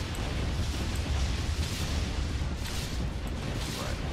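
Auto cannons fire in the space combat game Hexterminate, a dense, continuous rumble of rapid booms and bursts at steady volume, with no talk.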